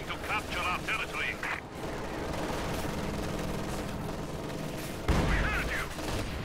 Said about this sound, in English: Su-76 firing on that stuff will wipe the MG42.